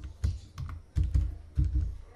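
Quick bursts of keystrokes as a password is typed on a computer keyboard, clustered clicks in short groups, close and fairly quiet with no talking.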